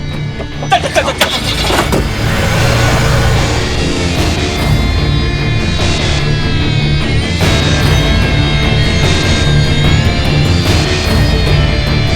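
A car engine runs loudly and steadily close by, revving as the vehicle pulls away, with some voices mixed in.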